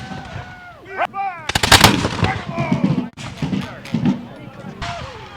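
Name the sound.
musket and cannon fire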